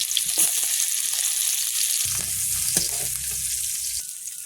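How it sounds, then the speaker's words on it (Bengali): Garlic sizzles and crackles in hot oil in a home Bengali kitchen, a steady loud frying hiss throughout, with a low humming rumble joining midway for about two seconds. "গরম হয়ে গেছে রসুন দেবো"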